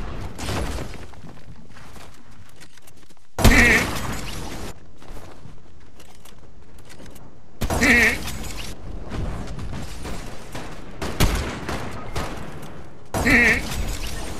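Sniper rifle shots in a video game, three loud sharp cracks spaced several seconds apart, each with a short echoing tail, over quieter game ambience and mechanical clicks.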